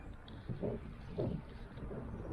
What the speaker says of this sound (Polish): Trochę wiatr